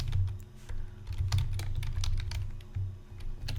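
Rapid typing on a computer keyboard, a close, steady run of quick clicks and clacks with slight pauses, heard alone.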